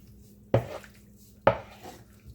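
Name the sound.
stirring ampalaya con carne in a pan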